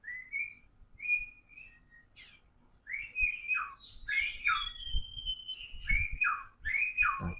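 An oriental magpie-robin (kacer) sings near and clear, with varied whistled chirps and trills that come in short bursts and then in a denser run of bright, rising phrases.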